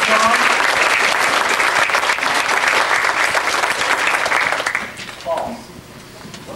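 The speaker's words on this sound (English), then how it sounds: "Give him a big round of applause." A large audience applauds loudly and steadily, the clapping fading out toward the end with a few voices over it.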